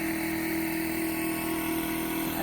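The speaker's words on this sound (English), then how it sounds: "So hubby's putting some air in my tires there." An air compressor hums steadily at moderate distance in a garage while it inflates car tires, a continuous motor drone with a clear tonal whine.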